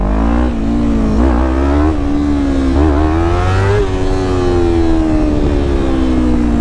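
A Yamaha R3 motorcycle revs hard for a power wheelie, its engine note climbing and holding in a loud, close, continuous whine with slight pitch wobbles, no talk over it.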